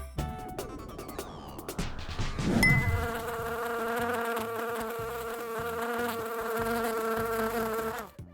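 A bee buzzes steadily and up close, a continuous insect drone that holds from about the third second to the end after a brief noisy start, with no voices.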